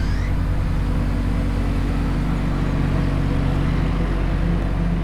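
A tractor engine drones loud and steady outside, a continuous low rumble with no break and no voices.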